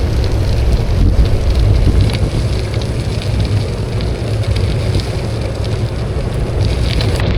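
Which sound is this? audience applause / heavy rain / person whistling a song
heavy rain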